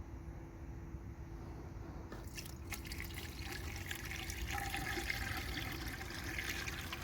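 Windshield washer fluid is poured through a funnel into a car's reservoir, a faint, steady trickle and gurgle of liquid that grows slightly fuller toward the end, heard close with no talking.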